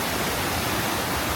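A waterfall in the Porcupine Mountains in late summer gives off a steady, dense hiss of falling water that stays close and even throughout.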